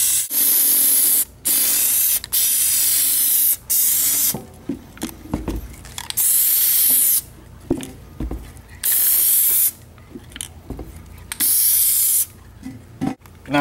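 Plasti Dip aerosol spray coating a pumpkin comes in loud, close hissing bursts of a second or two each, separated by short pauses with faint handling clicks and rustles.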